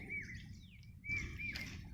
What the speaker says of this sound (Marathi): पक्षी आवाज करतायत